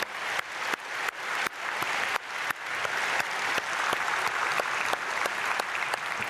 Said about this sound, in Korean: 우리 어린 아이들부터 우리 중고등학생까지 크게 박수로 축복하겠습니다